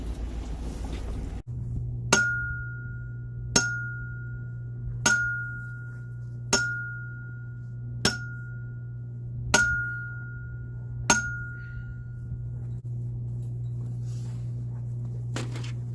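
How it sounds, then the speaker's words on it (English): A hammer strikes bent snow fence edges outdoors to straighten them, about eight sharp metallic knocks spaced roughly a second and a half apart over a steady low hum, each ringing briefly before fading. "Hammer knocks these edges over, so I like to just straighten them up a bit."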